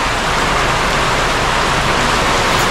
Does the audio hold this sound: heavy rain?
yes